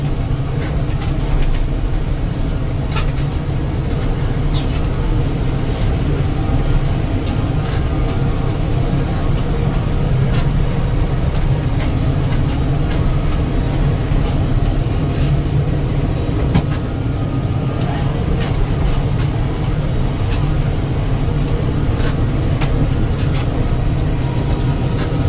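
A Kubota M7060 tractor mows brush with a brush hog in 4th gear, giving a loud, steady engine drone and rumble, with scattered ticks and clatter from cut brush throughout.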